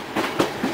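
A moving passenger train carriage on a Romania to Lithuania journey rattles with a couple of quick loud clacks and thumps over a constant rumbling ride noise, close by.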